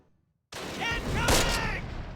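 Gunfire from a gun in the World War II strategy video game Close Combat Wacht am Rhein breaks out of silence as a short, loud burst of rapid shots with a whining streak, and voices sound over it.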